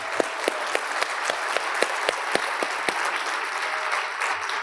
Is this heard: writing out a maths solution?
no